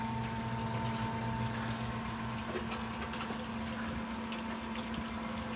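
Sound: pump circulating vinegar through electric tankless water heater

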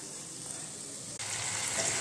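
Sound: hot water added to sizzling curry in a pan

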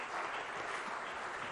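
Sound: audience applause

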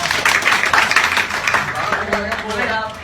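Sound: audience applause

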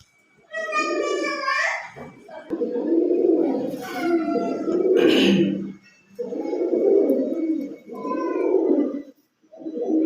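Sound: pigeons cooing

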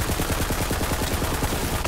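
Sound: SMG gunfire in the video game Borderlands 3

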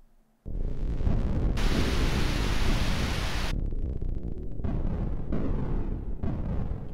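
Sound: thunderstorm outside in the video game Faith: The Unholy Trinity

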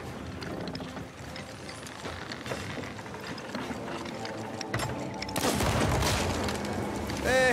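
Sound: grenades and firebombs exploding on ships in video game Sea of Thieves

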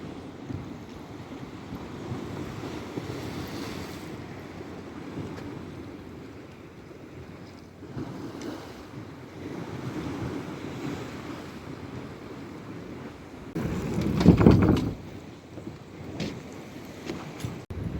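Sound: big sea waves breaking on slabs at Arcadia, Odesa

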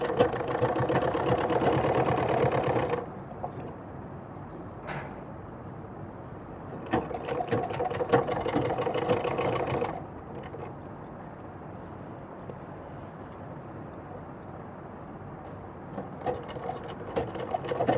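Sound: sewing machine stitching a dress

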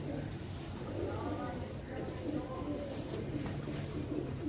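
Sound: golden pigeons cooing

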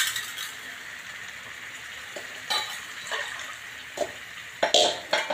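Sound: urad dal being added to the pan

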